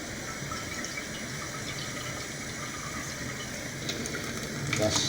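Water runs steadily from a tap into a cooking pot of brown rice and peas in a home kitchen, a continuous gentle gush that swells slightly near the end.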